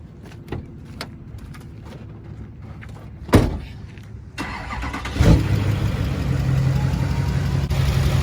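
A Duramax diesel truck engine cranks and catches, then settles into a loud, steady close-up diesel idle. Clicks and a sharp clunk come before the start, and the engine grows louder toward the end.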